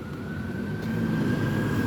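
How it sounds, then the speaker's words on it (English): Ambulance siren coming through traffic beside a construction zone with a big crane in the Fenway area, a steady wailing tone over loud engine and street rumble that grows slightly louder. "Get an ambulance coming through."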